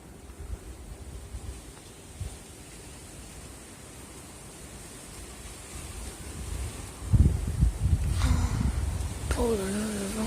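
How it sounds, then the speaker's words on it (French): Violent wind gusts sweeping through Nîmes, roaring as broadband rumble that builds and swells louder toward the end, with brief tonal rattles or creaks breaking through late in the gusts. "Les rafales de vent."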